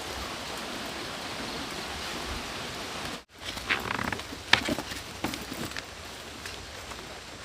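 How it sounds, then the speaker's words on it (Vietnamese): Steady rain falls as an even, dense hiss, cut by a brief silence, then returns with scattered nearer patters and taps. "Trời mưa thế này thì chắc là Sung cũng có nhà đây"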